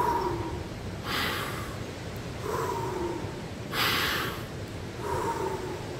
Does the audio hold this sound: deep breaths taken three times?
yes